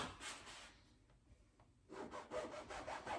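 A dull knife saws through a loaf of bread cut into thick slices for grill toasting, giving close, rough back-and-forth rasping strokes with a brief pause midway, then resuming steadily.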